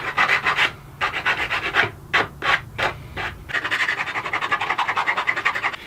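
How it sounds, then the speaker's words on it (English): Sandpaper rubs burrs off a 3D printed plastic bracket in close, rhythmic scratchy strokes, some longer passes and a run of quick short rubs, with brief pauses between them. "it leaves just a couple little burrs here that we can quickly clean up with a piece of sandpaper"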